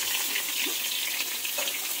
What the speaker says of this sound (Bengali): তেল দিয়ে কিন্তু পটলগুলোকে একদম সুন্দরভাবে আমি ভেজে নেব।